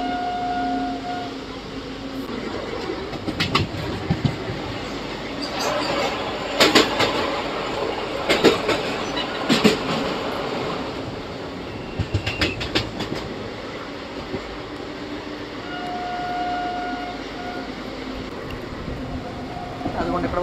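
A train rolling along the tracks and gathering speed, with a steady rumble and rhythmic clicks of the wheels over rail joints, heard close from on board, with occasional brief whistle-like tones.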